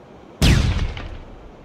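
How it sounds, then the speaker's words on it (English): A flashbang grenade detonates in a first-person shooter game with one sudden loud bang that rings on with a falling hiss and fades over about a second. "Flashbang."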